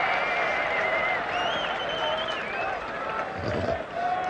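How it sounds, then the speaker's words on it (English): A large crowd at a West Indies versus England cricket Test match in 1984 sends up a sustained, distant cheer and applause, with a commentator talking over it. "Great cheer going up"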